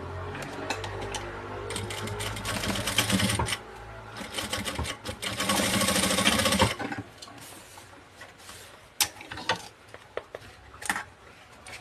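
A sewing machine runs in two fast, steady bursts while stitching down the middle of a piece of fabric, close and clear, then falls quiet to scattered clicks and handling noises.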